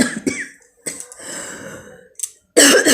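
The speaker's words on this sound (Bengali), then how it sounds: "আমার ভীষণ কাশি হয়েছে" Someone with a bad, persistent cold coughs. Several short, harsh, close coughs come in separate bursts, with breathy pauses between them.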